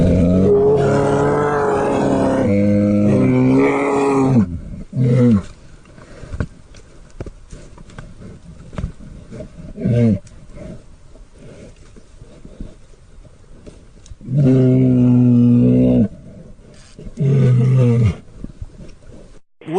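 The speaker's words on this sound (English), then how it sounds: "you actually picked up the sounds of two grizzly bears fighting over the spoils" Two grizzly bears fighting over a dead bison in the wild, heavy roars and growls rising in loud bursts, with quieter rustling and movement between the outbursts.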